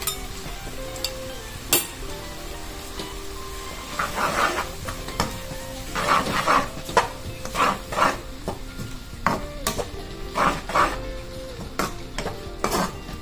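Chicken legs sautéing in a pan with turmeric, capsicum powder and salt, a low sizzle under repeated scraping and stirring strokes from a spatula, close and fairly quiet, with no talking.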